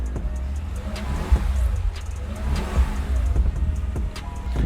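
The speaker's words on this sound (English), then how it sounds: "Yeah, it's a naturally aspirated V8." A naturally aspirated V8 engine in a Mercedes G550 idles with a deep, rumbling burble, close by, with a few brief revs swelling and settling.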